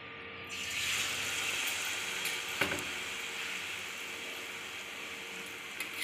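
Jackfruit puri dough pieces frying in hot oil give a steady, moderately faint sizzling hiss, with one brief crackle partway through and no talking.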